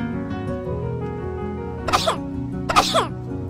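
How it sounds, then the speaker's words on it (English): Two sharp, harsh coughs about a second apart over a steady musical background. "And you're coughing."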